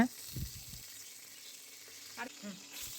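Cinnamon, cloves, cardamom and pandan leaf sauté in hot oil for a goat head curry, giving a soft, faint sizzle with a few light stirring scrapes near the start and end.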